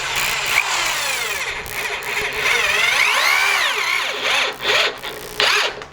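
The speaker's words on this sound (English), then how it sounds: "even though these are self-drilling screws, if you put them in the same line, they will have a tendency to split your wood" Power drill whines in rising and falling bursts while driving self-drilling screws into wood for a storage shelving unit, loud and close, with brief pauses between runs.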